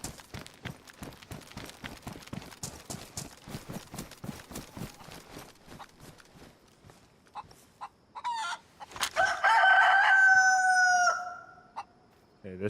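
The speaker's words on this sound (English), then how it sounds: "Chicken. That's our best bet right now." Clucking from a chicken in the survival game DayZ: steady rapid clucks and footstep-like clip-clop in the first half, then louder sustained squawking calls near the end, with no talk.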